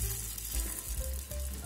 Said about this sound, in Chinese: 放油， 虾仁逐个放入，两面煎到它发红。